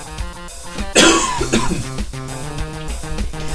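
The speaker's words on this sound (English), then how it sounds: "Excuse me, I need to cough again." Two sharp coughs close to the listener, one after another, over steady background music.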